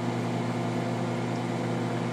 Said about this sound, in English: we already nuked it in the microwave